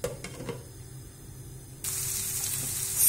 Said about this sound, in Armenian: տապակելու ենք սոխը